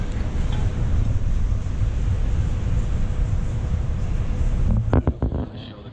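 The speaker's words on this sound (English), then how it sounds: "Here we have Atlas, Copco, model SF8, FF, air compressor with 120 gallon tank, powered by 230 volt," An Atlas Copco SF8 FF air compressor, 230-volt three-phase with a 120-gallon tank, runs with a loud, steady broadband roar and low rumble close by, then cuts off abruptly with a few knocks near the end.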